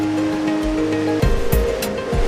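Water rushes over Argo Dam on the Huron River in a broad, steady roar, loud and close, with a low hum early and a few sharper splashes or thumps later.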